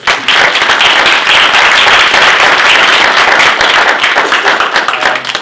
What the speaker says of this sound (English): But I want to give a round of applause to our panelists.